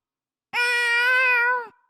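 Rollo, a cat in the game Tales of Xillia 2, gives a single clear, drawn-out meow lasting about a second, close and loud with nothing else around it.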